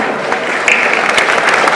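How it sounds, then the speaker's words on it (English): Steady audience applause fills a business success meet for Heritage, a dense wash of many hands clapping at close range with no pauses. "And a huge round of applause to all of you for making this happen."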